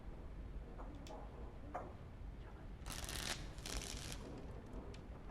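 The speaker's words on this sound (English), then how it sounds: "Before we start, the cards must be shuffled." Playing cards are shuffled in the Dragon Age Origins video game: two short, soft riffling bursts over a faint, quiet background with scattered light ticks.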